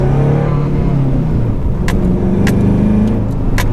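A turbo-swapped Subaru Impreza drives at low speed, its engine humming and rising steadily in pitch, close and continuous with faint ticking and clicks over the drone.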